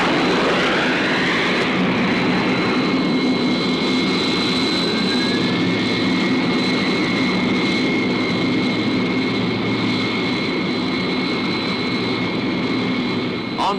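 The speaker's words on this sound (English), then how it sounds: "Now the jets." Jet aircraft engines roar steadily through a takeoff, a loud continuous blast with a high whine riding on top, close by and without pause from start to finish.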